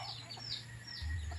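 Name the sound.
chicken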